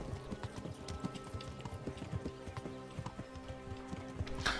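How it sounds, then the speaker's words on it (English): Rapid, rhythmic clip-clop of galloping hooves, steady and close, with a faint electronic game-like quality and no talking, in the video game Kingdom Come: Deliverance. "My horse is too fast."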